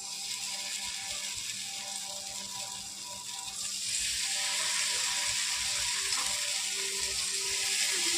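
Paneer tikka pieces sizzling and frying in a hot kadai, a steady close hiss that swells louder about midway and holds to the end, with faint clinks of cookware underneath.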